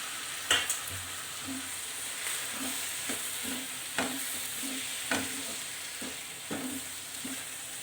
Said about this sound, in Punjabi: ਇੱਕ ਮਿੰਟ ਵਾਸਤੇ ਆਪਾਂ ਮਸਾਲੇ ਨੂੰ ਭੁੰਨ ਲੈਂਦੇ ਆ